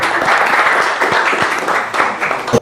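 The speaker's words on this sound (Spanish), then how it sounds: "Un aplauso al grupo" Applause for a group at a diploma course session: a few seconds of dense, steady clapping from an audience, fairly close and loud.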